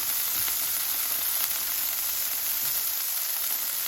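Vegetable oil with leftover butter on a Blackstone griddle, a steady bright sizzle and hiss that holds evenly throughout, close and alone without talk.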